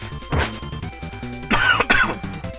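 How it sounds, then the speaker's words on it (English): A sudden cough bursts out near the mic, then a second, harsher fit of coughing and throat clearing follows, set against quiet Kirby Super Star game music in the background. "The cough."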